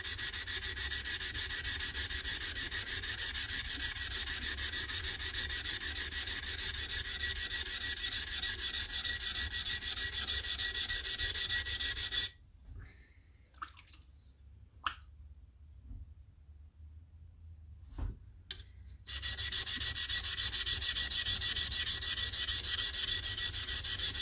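A blade's shinogi line is ground by hand with perpendicular strokes, giving a steady, close scraping rasp that stops for a few quiet seconds with faint drips, then resumes just as continuous.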